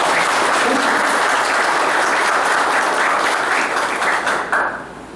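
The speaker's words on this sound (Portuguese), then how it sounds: "Merece um aplauso, gente." Loud, dense applause from the audience at a national political gathering of a liberal democratic league, sustained clapping that holds steady for several seconds before tapering off at the end.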